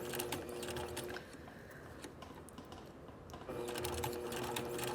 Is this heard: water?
no